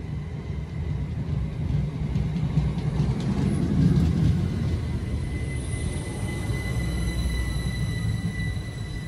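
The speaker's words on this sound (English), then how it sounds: "Departing out now is the 1407 Great Western Railway service from London Paddington to Didcot Parkway." A Great Western Railway service, unit 387158, pulls out of Goring & Streatley station bound for Didcot Parkway, a steady low rumble of wheels and traction with faint high whines, sustained and moderately loud.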